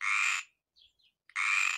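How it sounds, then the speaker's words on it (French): A frog croaks loudly and close outdoors, two long rasping calls separated by a brief near-silent gap with faint chirps. "Quelle grenouille terrible."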